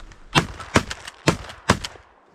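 Four loud, sharp shotgun blasts fire in quick succession while hunters shoot teal ducks during a snowstorm, each crack ringing out close to the listener.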